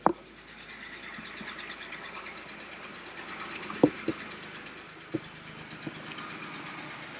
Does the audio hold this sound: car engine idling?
yes